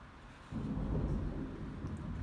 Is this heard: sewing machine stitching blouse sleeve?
no